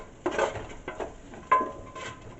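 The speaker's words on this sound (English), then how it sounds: "we're going to stir the onions in there. And basically stir them in the bacon grease" A utensil scrapes and knocks against a pan while onions are stirred into bacon grease, a few separate clattering strokes over a faint sizzle.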